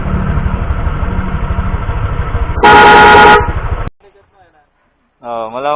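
A loud snail horn on a motorcycle blares in one sustained honk over engine idle, cutting off abruptly before a brief quiet and a voice.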